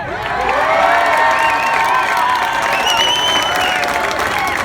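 A big political rally crowd cheers, whoops and applauds in one loud, steady, continuous roar, with shouting voices rising above the clapping throughout.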